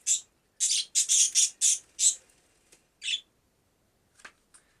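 A burst of sharp, high bird squawks in quick succession, then a couple of scattered calls and faint chirps trailing off.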